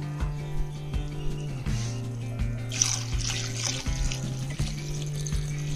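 Hot water pouring into a pot of khichuri made with rice and kalai dal, a steady liquid stream running for several seconds in a kitchen, fairly close and moderately loud, with no talking.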